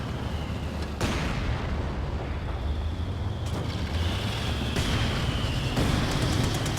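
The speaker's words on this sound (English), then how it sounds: "Taking cannon fire!" Heavy booming blasts of cannon fire amid dense battle noise in Company of Heroes 2, with sharp impacts landing every second or so over a constant rumbling din.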